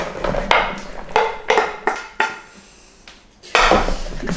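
A vegan Wellington mixture scraped into a bowl and stirred, with a string of clinking and knocking strikes of a utensil against the bowl, irregular and close, with a brief quiet pause partway through.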